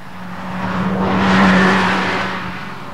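Ferrari 348 sports car engine revving as it approaches and passes, a tonal snarl that swells to a loud peak mid-clip then fades away.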